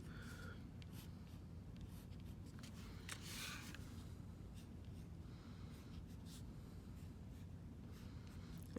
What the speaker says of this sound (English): Okay, and you draw the petals individually.